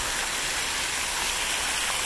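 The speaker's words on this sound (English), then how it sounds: "Look at these fountains." Fountains in the park at Saint Sava Temple at night throw and splash water in a steady, dense hiss like heavy rain, close and unbroken, with no voices.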